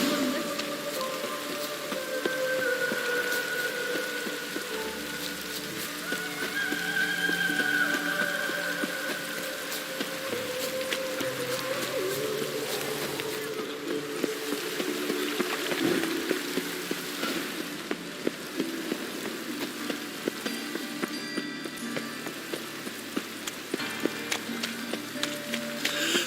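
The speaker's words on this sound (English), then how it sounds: "Looks like rain." Rain in The Witcher 3 video game, a steady patter and hiss of drops on surfaces with soft scattered clicks, mid-level and continuous, with faint tonal game sounds in the background and no talk.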